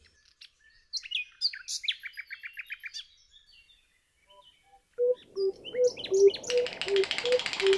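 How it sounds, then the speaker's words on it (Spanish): Bird calls ring out in a humid hillside forest: bursts of high chirps and trills, then a run of evenly spaced clear notes joined by other chirping, close and crisp against a quiet background. "el colibrí rumbito pechiblanco, cuya distribución comprende bosque muy húmedo y húmedo, llega al cerro para alimentarse de néctar e insectos."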